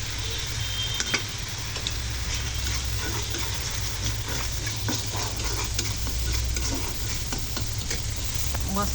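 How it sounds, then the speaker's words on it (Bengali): Chilli powder, cumin and spice paste frying in a pan for a village-style hilsa fish curry, a steady close sizzle with scraping stir strokes throughout, no talk. "এটা মরিচের গুঁড়া সব গেলা মশলাকে সুন্দর করে কষিয়ে দিব"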